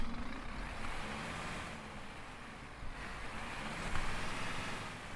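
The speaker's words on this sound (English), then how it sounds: "that's now turned on the engine, which this engine sounds completely different in this patch" A Scania Citywide bus engine idles in the OMSI 2 simulator, a steady low rumble with a broad whooshing hiss, gently swelling and easing over a few seconds, alone with no talk.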